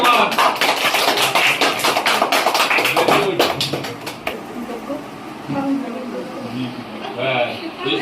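Another loud round of crowd clapping for a student's NEET exam success fills the first half, then breaks off abruptly, leaving quieter room murmur and speaking voices.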